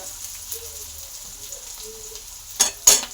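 Chopped onion fries softly in a pan of oil, a faint low sizzle with a couple of louder scraping stirs near the end.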